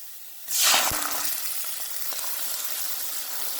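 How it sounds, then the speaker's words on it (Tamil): Tempering spices for keerai milk satham hit hot oil with a sudden loud sizzle that settles into a steady, close frying hiss. "நாங்கள் போட்ட தாளிப்பு சாமான்கள் எல்லாம் நல்லா எண்ணெயில் வதங்கி"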